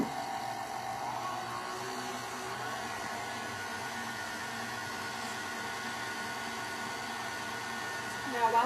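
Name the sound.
mixer mixing cake batter on low speed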